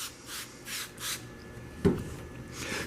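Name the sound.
wet sanding car clear coat with 1500 grit sandpaper on a block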